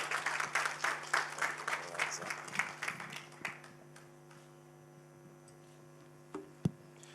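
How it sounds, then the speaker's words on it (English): Audience applause at an academy of sciences launch event, a burst of scattered clapping in a hall that thins out and fades over several seconds, leaving a low electrical hum and a couple of faint knocks. "Can we give him a round of applause?"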